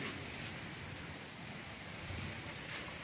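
Steady rain hisses and patters continuously at moderate distance, an even wash of noise with no other sounds.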